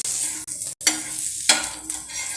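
Dosa batter sizzles on a seasoned iron dosa pan, a bright hissing fry broken by a brief silence and sudden stirring or scraping bursts, close and alone.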